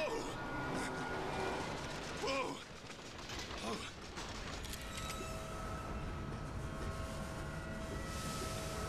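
Train ride in the video game Bioshock Infinite: a steady mechanical rattle and clatter with creaks and ratcheting, running continuously at close range with faint speech mixed in.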